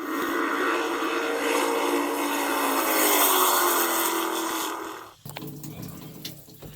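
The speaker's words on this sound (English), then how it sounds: "Let me go turn the garden hose on a little bit." Water rushes steadily from a garden hose with a broad hiss for about five seconds, then cuts off abruptly, leaving faint dripping and spattering.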